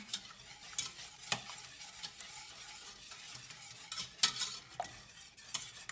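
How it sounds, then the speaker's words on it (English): Egg yolks are beaten in a bowl, with soft, irregular whisking clicks and scrapes close by. "Make sure to beat all the yolks."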